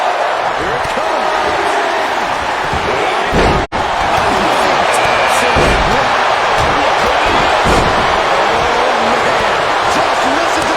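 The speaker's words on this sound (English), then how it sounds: "Just listen to the crowd." A roaring wrestling arena crowd keeps up a dense, continuous wall of cheering throughout, punctuated by heavy ring slams and thuds, while a commentator talks over the noise.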